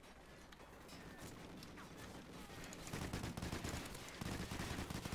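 ARX rifle firing in Call of Duty Ghosts, rapid automatic bursts of dense gunfire that grow louder after a quieter opening, with no talk.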